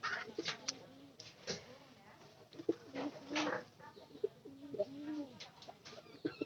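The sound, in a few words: pigeons cooing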